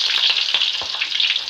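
Chopped onions and curry leaves sizzle in hot oil in a pan, a close, steady crackling hiss with a few light stirring scrapes, brief and without any voice.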